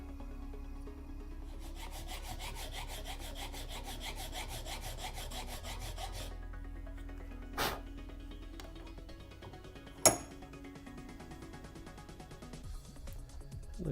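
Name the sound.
filing a bevel on a Sabine Wren helmet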